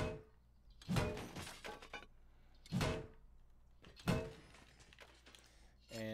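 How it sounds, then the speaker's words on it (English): In the video game Rust, barrels are smashed open with four sharp, crunching metallic breaks spaced about a second apart, fairly quiet and close. "Let's bust open the barrels."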